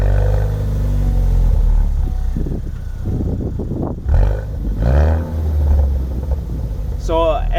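A 2012+ Ford Focus ST with a stock muffler and a deleted resonator starts up, giving a loud, deep exhaust roar that dips and then rumbles again, with some gurgling; someone speaks near the end.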